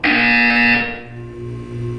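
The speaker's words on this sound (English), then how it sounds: "You will hear a buzzer. When you hear the buzzer, look up at the ceiling." A loud harsh buzzer sounds in the video game Portal 2, a steady electronic drone lasting nearly a second before cutting off, leaving a quieter ambient hum.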